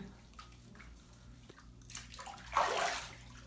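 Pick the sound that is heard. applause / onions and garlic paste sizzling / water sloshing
water sloshing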